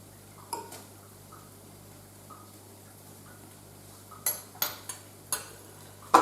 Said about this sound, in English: Just give that a little bit of a mix through, just so you get the flavour of the oil and lemon juice through the kale.